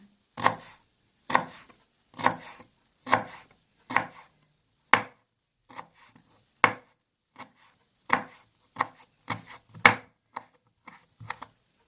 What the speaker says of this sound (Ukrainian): І нарізаємо такими шматочками кульбочку.